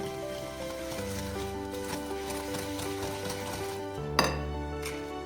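Sugar being stirred into chocolate cupcake batter by hand, a steady close scraping and swishing in a bowl with a faint low hum underneath and one brief sharper knock near the end, no voices.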